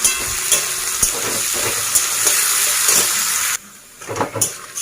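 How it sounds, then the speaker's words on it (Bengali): Two medium chopped onions frying in a pan for a banana-flower and prawn dish, a loud continuous sizzle with occasional stirring knocks, briefly dropping quieter near the end. "পেঁয়াজগুলো এরকমই ভাজবো আর এর থেকে আর বেশি ডিপ করে ভাজবো না"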